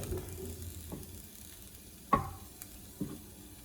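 Bacon and snake beans stir-frying with garlic in a pan, a soft steady sizzle with a few sharp clinks of a utensil against the pan, quiet and close, without talk.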